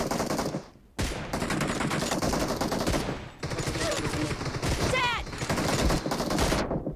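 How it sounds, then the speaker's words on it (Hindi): Gunfire from the M24 sniper rifle in BGMI (Battlegrounds Mobile India), a team deathmatch, sounds as loud dense bursts of shots that fill most of the stretch, with brief gaps between volleys. "अरे 3 गोली मार दी भाई फिर भी नहीं मरा भाई साहब।"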